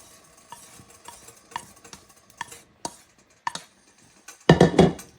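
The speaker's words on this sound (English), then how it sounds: "we're going to re-add the shredded rabbit meat back to the stew" Shredded rabbit meat being stirred back into an herb-and-vegetable Irish stew, a spoon scraping and knocking the pot in a slow series of soft strokes, then a brief louder burst of wet stirring at the close.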